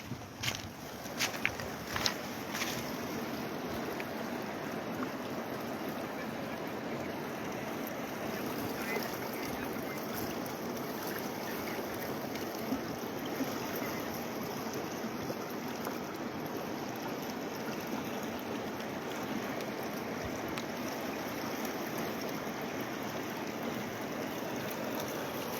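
The swollen Chenab river near Salal Dam, a broad continuous roar of rushing floodwater with steady wind buffeting, dense and unchanging throughout, with a few sharper splashes early on.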